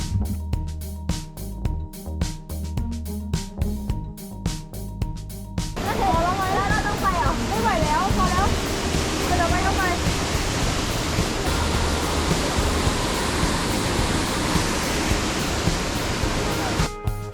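Haew Suwat waterfall in Khao Yai gives a steady, broad rush of falling water that fills the scene once it starts, after a brief stretch of other ambient sound, with a voice faintly present at points.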